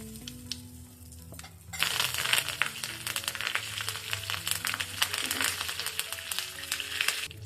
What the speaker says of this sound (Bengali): কারিতে আমি জিরে আর সর্ষে ফোড়ন দেবো লঙ্কাও দিয়ে দিলাম